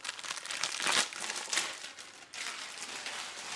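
Compostable plant-starch packaging is peeled off a small cutting board, a close, loud crinkling and rustling that swells and fades in uneven waves.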